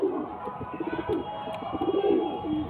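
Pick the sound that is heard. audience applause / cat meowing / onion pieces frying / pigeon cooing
pigeon cooing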